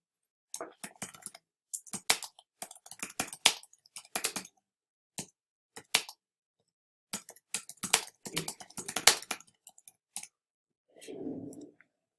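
Someone types on a computer keyboard while entering a feedback comment in Google Docs, producing quiet bursts of clicking keystrokes separated by short pauses, followed by a brief soft hum at the end.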